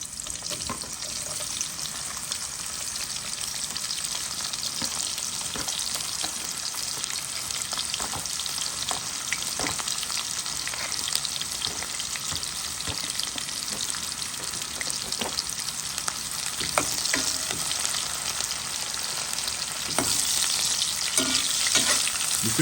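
Sliced onion fries in hot oil with a dense, steady sizzle and crackle that continues throughout, with occasional stirring clicks and scrapes and no talking.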